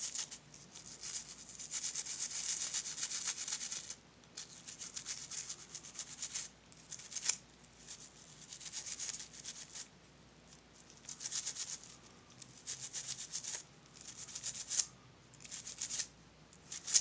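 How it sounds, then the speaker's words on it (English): Scrubbing the buttons of a Game Boy Color to clear a spill, close bristly brushing strokes in bursts separated by short pauses, with no talking. "This one seems to be where the spill's centered, so I'm gonna scrub it."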